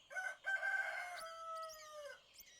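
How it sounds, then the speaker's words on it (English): A rooster sound effect crows once loudly and clearly, a drawn-out cock-a-doodle-doo with a short opening note followed by a long falling call. "Insert rooster noise wherever my sound cube went."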